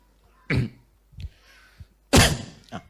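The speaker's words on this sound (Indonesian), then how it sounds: "Itu batuk." Coughs break out in a lecture hall during an Islamic study session, two sharp bursts with a smaller throat sound between them and a last faint one trailing after, fairly close and with no speech over them.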